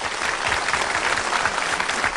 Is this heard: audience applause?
yes